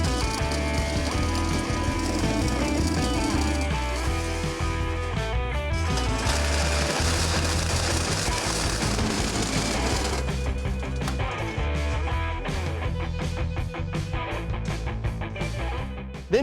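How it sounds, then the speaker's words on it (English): A bandsaw cuts metal for a custom Buick Regal bumper, a steady, buzzing mechanical whine running throughout, turning into rapid rattling pulses near the end. "The bandsaw is ideal for this because it makes nice,"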